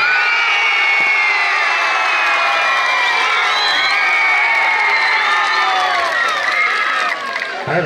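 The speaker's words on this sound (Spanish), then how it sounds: "Vamos a continuación pedir los aplausos para la pareja que representa a Unión San Lorenzo de Pucará" A loud festival crowd at a Huaylas contrapunto dance competition in Huancayo cheers, whoops and shouts with applause mixed in, a dense sustained roar that runs throughout before easing slightly at the end.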